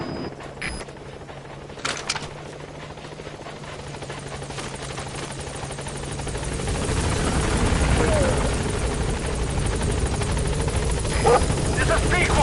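The Pequod helicopter in Metal Gear Solid V comes in toward a landing zone, its rotor and engine roar building louder over the stretch, while a radio voice talks over it.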